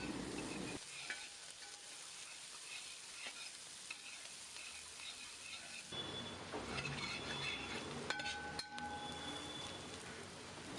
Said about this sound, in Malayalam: സവാള ഇതിനകത്തേക്ക് ചേർത്ത് കൊടുത്ത് ഒരു മീഡിയം ഫ്ലെയിമിൽ ഒരു 3 മിനിറ്റ് നമുക്കൊന്ന് സോട്ട് ചെയ്തെടുക്കാം